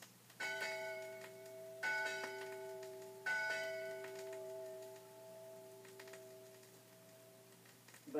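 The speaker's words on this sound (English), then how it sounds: "And ships at sea have bells that sound like this." A ship's bell at sea rings three clear strikes about a second and a half apart, each one sustaining and decaying into a lingering metallic hum.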